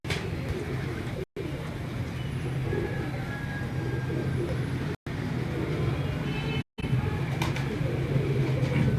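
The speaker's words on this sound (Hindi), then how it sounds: "ये टैडी कबूतर है" Teddy pigeons kept by a breeder coo softly and repeatedly against a constant rumbling background hum, the cooing low and mid-distance throughout, with a few brief dropouts.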